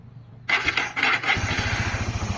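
A Raider 150 motorcycle with a weak battery and an SWR 30mm carburetor cranks briefly, then catches and settles into a close, loud, uneven idle with a steady, rapid low pulse.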